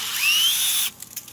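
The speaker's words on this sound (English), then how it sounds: "Put my drill against the tree, try to get it as level as possible." An electric drill bores into a maple tree trunk for tapping, a loud rising whine for most of a second that cuts off abruptly, followed by a few faint knocks.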